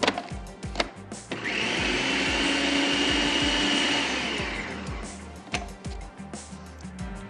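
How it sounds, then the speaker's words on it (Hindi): An electric food chopper whirs loudly for several seconds as it chops bread and onions. Shorter clunks and knocks from the appliance come before and after the continuous run. "डबल रोटी और प्याज तमाम चीज़ें बहुत अच्छे से चॉप हो गई हैं"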